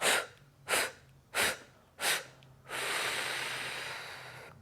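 Four short, forceful pulsed exhales through the nose, evenly spaced about a second apart, followed by one long, full, sustained exhale, close and quiet during a yoga breathing exercise, with no talk.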